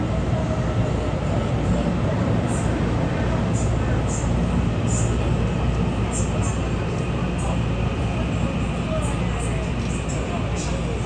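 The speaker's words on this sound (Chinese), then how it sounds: "4月16区间1201次，基隆至新竹台北站2点36分进站" Local commuter train 1201 on the Keelung to Hsinchu service pulls into Taipei station, a steady low rumble of rolling wagons filling the whole stretch with little change in level.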